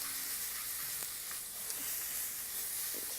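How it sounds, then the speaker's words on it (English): Pork sizzling on a hot grill, a steady bright crackling hiss with occasional pops, close and even throughout, with no one talking. "Okay, I think I can turn my pork now."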